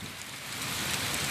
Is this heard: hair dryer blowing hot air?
no